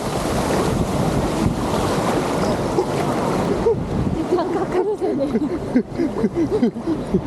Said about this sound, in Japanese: 波が高すぎて進めない